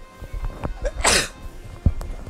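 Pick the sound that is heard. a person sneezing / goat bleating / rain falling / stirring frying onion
a person sneezing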